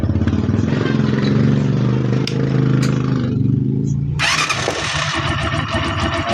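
A small Honda TMX Alpha motorcycle engine with a ticking engine fault is running with a steady low rumble, then starts up louder with a harsher, brighter revving clatter partway through.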